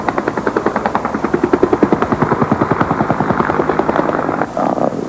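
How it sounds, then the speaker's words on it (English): An Air America helicopter hovering with a sling load, its rotor beating in a loud, steady rapid thump close by, with the turbine whine running underneath throughout. "you can feel the load touch the ground and less power is required to hover the aircraft at that point"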